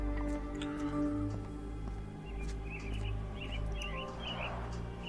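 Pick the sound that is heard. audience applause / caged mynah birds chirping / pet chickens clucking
caged mynah birds chirping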